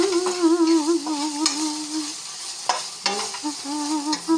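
Jackfruit seeds and small fish curry stir-fried in a pan, with steady sizzling and repeated scraping stir strokes close by, no talk.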